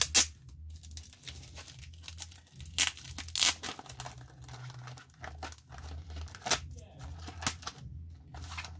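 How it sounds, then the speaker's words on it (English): Packaging being peeled off a Neotec 2 Pinlock insert, close crinkling and tearing plastic in irregular bursts, with sharp crackles throughout. "So peel the packaging."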